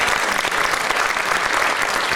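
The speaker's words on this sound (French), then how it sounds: "Vous pouvez l'applaudir, celui qui l'a fait," An audience applauds a storyteller's fire in a fireplace during a Provençal storytelling show in Carces, giving dense, steady clapping that fills the whole stretch at close range with no break.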